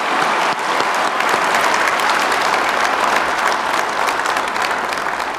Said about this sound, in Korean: 우리 박수 한번 부탁드리겠습니다.